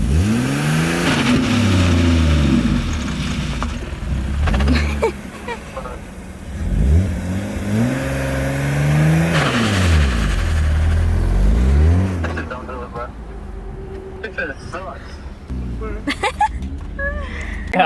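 A BMW E36 M3 with a fragile clutch revs in repeated rising and falling bursts, its engine note climbing and dropping several times, loud and close, with voices talking over parts of it.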